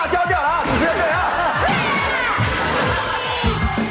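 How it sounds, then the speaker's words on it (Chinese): A television cooking-show studio audience cheers and shouts loudly at the host's deep-frying, a dense crowd roar mixed with excited voices throughout. "主持人的炸功让全场欢呼"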